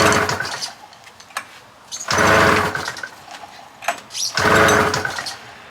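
A 600cc Arctic Cat engine in a vintage Triple EEE buggy cranks and sputters in bursts, with three loud surges of uneven firing separated by quieter clicking and ticking, heard up close.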